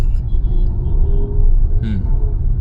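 A learner's car engine rumbling steadily at low pitch while driving during a training lesson, picking up speed through the gears, with a brief brighter engine rise near the end and faint voices in the background.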